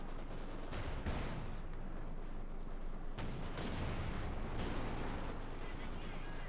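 Rattling gunfire and rocket blasts from a Company of Heroes 2 battle between Wehrmacht and Soviet forces, loud and continuous with sharp bursts, under a commentator's voice.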